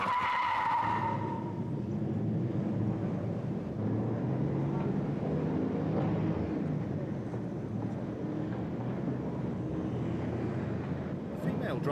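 A car pulls away with its tires skidding and squealing briefly at the start, followed by a sustained rumbling engine and road roar that stays loud and broad throughout, with voices faintly mixed in.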